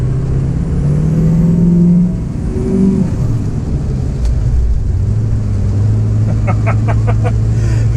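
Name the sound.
Ford 6.0 Powerstroke diesel truck accelerating with tune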